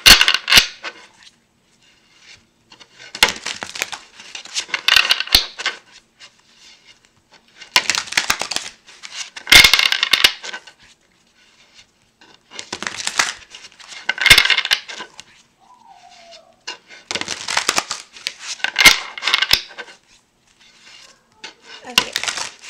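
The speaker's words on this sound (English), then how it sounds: "Okay, so I'm just going to shuffle." Tarot cards being shuffled by hand in repeated bursts of riffling and slapping, roughly every few seconds with quiet gaps between, loud and close.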